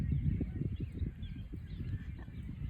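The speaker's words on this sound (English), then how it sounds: "Oh, there's little ducks there." Ducks squawking at a lake beside a campground, a mother duck with ducklings, giving a dense run of low, rough calls that carry on steadily and close by, with a faint background murmur.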